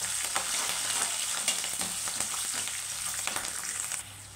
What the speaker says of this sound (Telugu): పచ్చిమిరపకాయ కూడా బాగా వేగుతుందండి